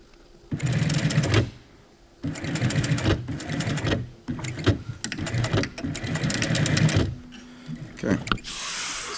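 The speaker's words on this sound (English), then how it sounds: "now that we have that sewn, now we have to go back and sew another stitch that will lock this hem in" Sewing machine stitching a fabric hem, running in several loud bursts of steady whirring and needle clatter separated by short pauses, close up with no talking.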